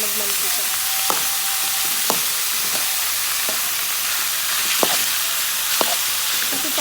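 Pork pieces with fat frying in a pan of oil for adobo, a steady close sizzle running throughout with occasional sharp pops and crackles.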